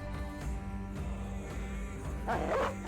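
War dogs in the Battle Brothers video game give a few short barks and yips amid battle noise, moderately loud, with a louder yelping burst near the end.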